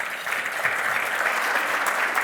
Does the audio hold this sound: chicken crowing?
no